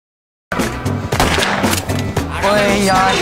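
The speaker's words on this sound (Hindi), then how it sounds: "क्या कमाल की गोली चलाई है" Rapid gunfire cracks in quick bursts, loud and close, after a brief silence, with a voice talking among the shots.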